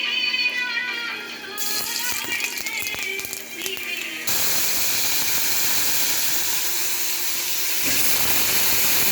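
Lentil dumplings (bori) fry in mustard oil in a pan over a high gas flame. After a few seconds of light clatter, a loud, steady sizzle starts and carries on to the end.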